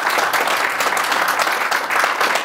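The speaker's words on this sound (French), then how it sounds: "On vous applaudit." Press conference audience clapping, a dense, steady round of applause filling the room without pause.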